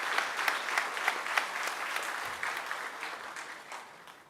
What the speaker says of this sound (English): give a thunderous applause to welcome our guest of honor, Sri Madhavan Nair.